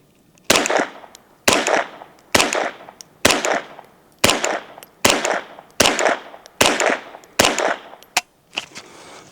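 Bulk Federal .22 rounds are fired from a rifle in nine sharp, evenly spaced shots about one second apart, each loud crack ending in a short decay, with a softer click after the last one.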